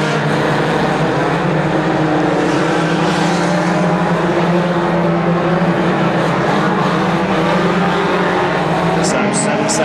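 Banger racing cars roar around an oval track in a 1500 Bangers team race, a dense continuous engine drone close by with no break, and a brief high squeal near the end.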